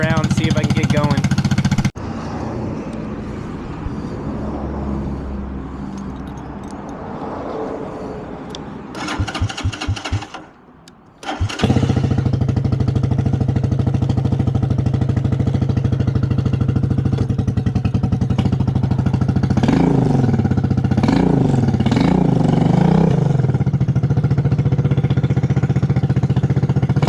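A 250cc go-kart engine idles with a steady low putter, cuts out briefly, then roars back and revs in rising and falling sweeps near the end, close and loud, with speech present in the clip.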